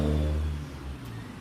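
A Bajaj CT150 motorcycle engine, its exhaust and parts replaced yet still noisy, runs with a rough, throbbing low rumble that eases off after a brief rev, heard alone and close.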